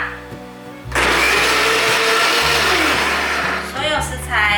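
A kitchen blender roars to life with lotus root and wheatgrass powder inside, running loud and steady with shifts in motor pitch as it churns, then easing down near the end; some faint voice is mixed in.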